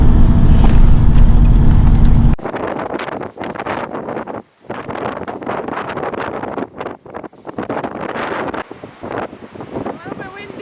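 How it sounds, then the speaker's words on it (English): Strong coastal wind buffets the microphone at first, then gusty outdoor noise with talk and movement sounds continues near the surf. "A little bit windy."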